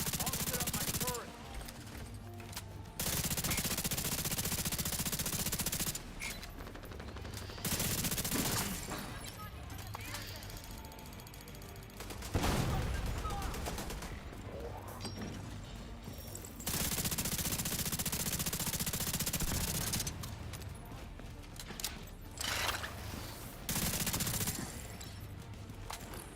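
An automated turret in the shooter The Division 2 fires in bursts of rapid gunfire, several sustained volleys separated by short pauses, with a player talking between them.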